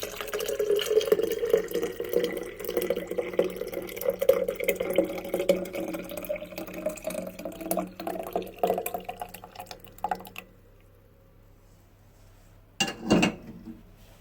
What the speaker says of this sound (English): Now let's pour.